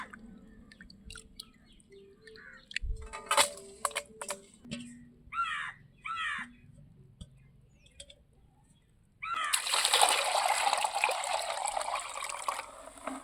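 Small prawns are washed by hand in water, with a burst of sloshing and splashing near the end, after quieter handling noises and bird calls in the background.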